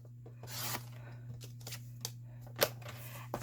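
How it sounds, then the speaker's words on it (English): Paper trimmer blade slicing 6x6 card stock down to size at a craft table, a soft rasping swish near the start followed by a few light clicks and a sharper snap, close and quiet over a steady low hum. "let's put the 6x6 in here, and we're going to trim it down to 4 inches"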